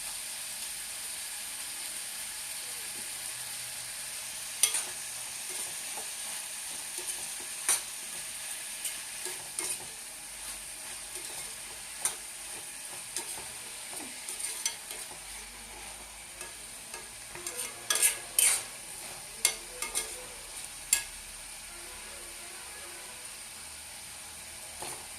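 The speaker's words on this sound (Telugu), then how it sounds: "ఉల్లిపాయలు బ్రౌన్ కలర్ వచ్చే వరకు వేపుకోవాలండి." Sliced onions fry and sizzle in a pan for an egg curry, with a steady soft hiss broken by scattered clicks and scrapes of stirring, louder near the end, no talk.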